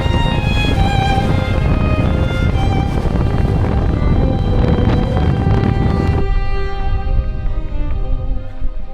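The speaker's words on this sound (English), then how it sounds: "It is extremely windy right here" Strong wind roars and buffets a microphone near a glacier in Alaska, a loud, continuous rumbling gust that eases slightly after about six seconds.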